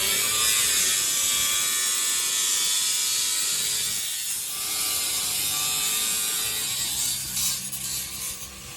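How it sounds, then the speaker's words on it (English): A grinder cuts through metal on a vehicle for a bumper fit, making a loud, continuous high-pitched grinding whine that holds steady for several seconds before tapering off at the end. "we'll cut that with the grinder"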